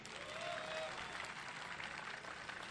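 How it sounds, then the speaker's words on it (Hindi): Audience applause at a literary festival conversation session, a dense steady wash of many hands clapping at moderate distance, fairly faint and sustained throughout without a break. "1 2 3 करके आप लोग ज़रूर बताएं तालियों से कि आप लोग हमारे साथ हैं कि नहीं"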